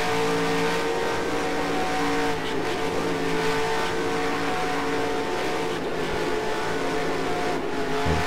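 A stock car engine roars continuously at high revs on the track in NASCAR Racing 2003, loud and close, with a steady drone and slight pitch shifts and no voice over it.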